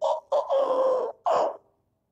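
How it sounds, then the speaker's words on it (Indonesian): A fighting cock, a gamecock of the type kept for cockfighting, crows loud and close in several short bursts that stretch into one long call, then stops abruptly with no talk over it. "Oh, tu bunyi ayam sabung."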